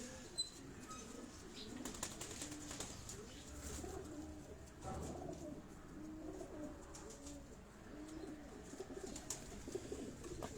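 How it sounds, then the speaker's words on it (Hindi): Bateray breed pigeons on a rooftop loft coo softly and intermittently at a distance, with occasional wing flaps and faint chirps in a quiet outdoor setting. "ये बटेरे नस्ल से हैं ये कबूतर"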